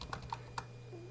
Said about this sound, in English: I'm gonna hit a keyboard about 5 times